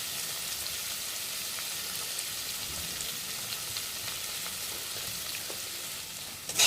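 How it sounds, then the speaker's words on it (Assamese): Ground turmeric, chili, cumin and coriander fry in oil in a pan for an ari fish gravy with raisins, giving a steady, soft sizzle with light stirring and a brief clunk at the end. "গোটেইখিনি দি আকৌ মই লৰাই চৰাই অলপ সময় ভাজি ল'ম"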